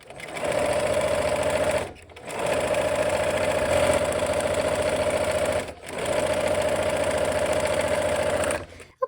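Sewing machine stitching quarter-square quilt triangles, running in three long, steady bursts separated by brief pauses, loud and close with an even mechanical hum and rapid stitch rhythm.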